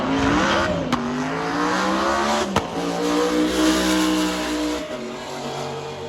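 A GTR race car accelerates hard in a roll race at Zmax Charlotte dragway, its engine climbing through rising revs with gear-shift breaks, loud and sustained, mixed with other cars at the track.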